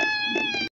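A cat meows in one strong, drawn-out call, loud and close with a rich harmonic tone, stopping abruptly into near silence.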